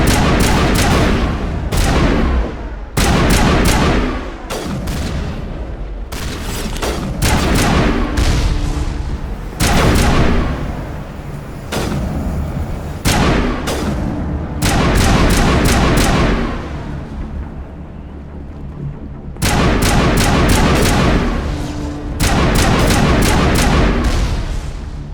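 Turret gunfire in the Mass Effect Legendary Edition Virmire battle: loud bursts of heavy automatic fire repeating through the whole stretch, separated by short gaps, with booming impacts and no talking.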